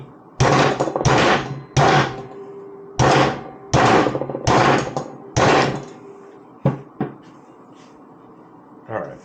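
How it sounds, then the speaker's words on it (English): Hammer blows on a Walker Evans shock from a RZR Pro XP4 during a rebuild, a run of loud, close, sharp thuds in quick pairs and groups, then a few lighter taps and knocks trailing off. "I finished hammering on that, put the ring in."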